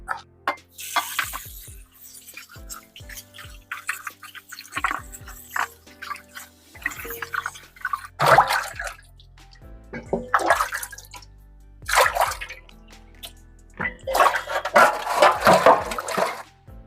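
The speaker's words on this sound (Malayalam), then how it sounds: "തൊലി ചെത്തി വൃത്തിയാക്കിയ കപ്പക്ക നമുക്ക് ഒരു വെള്ളത്തിൽ നന്നായി ഒന്ന് കഴുകിയെടുക്കാം" Water sloshes and splashes in a basin in irregular bursts as peeled tapioca is rinsed and rubbed, with drips and small knocks between.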